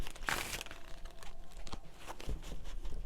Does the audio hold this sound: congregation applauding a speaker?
no